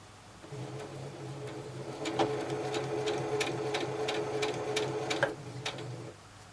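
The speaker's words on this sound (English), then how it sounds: "So with it actually saying needle down, I can sew for a little bit. We'll put it on this slow speed." A sewing machine runs at slow speed in needle-down mode, its steady motor hum carrying a regular ticking stitch rhythm for several seconds before it stops.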